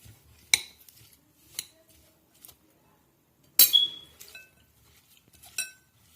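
Chopped vegetables mixed with salt in a bowl, heard as a few sharp metal spoon clinks against the bowl, spaced irregularly, with soft stirring rustles between them, close and fairly quiet against silence.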